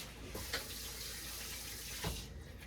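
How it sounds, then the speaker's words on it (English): Hands are rinsed under a running kitchen tap, a brief, fairly quiet steady water rush with a couple of slightly stronger splashes. "I'm just going to rinse my hands."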